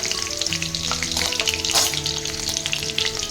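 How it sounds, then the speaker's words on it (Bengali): Green chillies crackle and sizzle loudly in hot oil as a spoon stirs them, with scraping strokes and a brief louder burst midway, no talking. "তেলের উপরে আমি কাঁচা লঙ্কা দিয়ে দিচ্ছি। কাঁচা লঙ্কাটা হালকা নেড়ে নেব"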